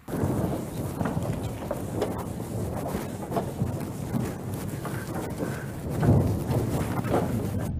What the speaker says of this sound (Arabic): كان يصب علينا مطر مطر مطر